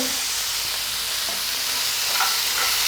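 Fish fry being stirred in a hot pan with turmeric, pepper and salt, a steady broadband frying sizzle with scraping stir strokes, close and continuous, no talking.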